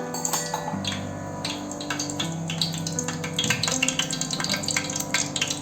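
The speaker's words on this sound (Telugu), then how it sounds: "పచ్చిమిర్చి, కరివేపాకు, కొంచెం ఫ్రై చేసుకుందాం" Green chillies and curry leaves crackle and spatter in hot oil in a pan, a busy, close sizzle with bursts of popping over a low steady hum, no voices.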